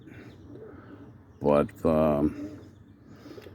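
Pigeons in a small racing pigeon loft early on a Sunday morning, a couple of close, loud coos in quick succession against a quiet background, with someone speaking briefly.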